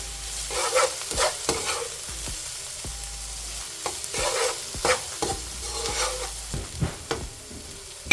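Tomatoes being stirred into a frying saltfish cook-up, with a spoon scraping and clacking against the pot in irregular strokes over a steady sizzle, close and fairly loud, and no voices.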